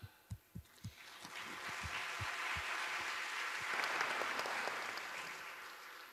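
An audience at a mental health panel discussion breaks into clapping, beginning with a few loud, close, individual claps before swelling into steady, even applause that carries on to the end.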